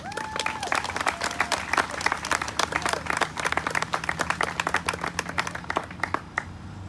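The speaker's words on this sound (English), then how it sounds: "So you also deserve a round of applause." Sustained audience applause at an anti-racism community event, a dense steady wash of many hands clapping for about seven seconds, with faint voices mixed in underneath.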